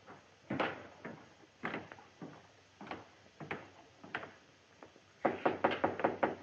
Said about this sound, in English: Better knock before you go in.